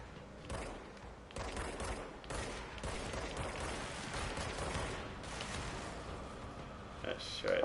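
Bursts of service weapon gunfire from the game Control crackle in rapid volleys over continuous game noise, with a person talking throughout over the shooting.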